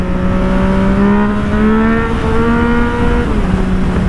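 A Yamaha MT-09 motorcycle engine revs loudly and continuously, close by, with rising and falling pitch as it accelerates, and no talking over it.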